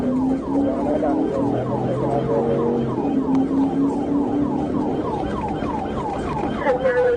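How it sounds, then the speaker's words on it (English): Police sirens wailing during a chase of a sport bike rider doing wheelies on a Florida road, several rising and falling wails overlapping with traffic rumble underneath. "Alright, there go them sirens."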